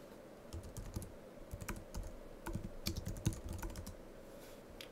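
A Google search is typed on a computer keyboard in irregular bursts of crisp key clicks separated by short pauses, fairly close and quiet.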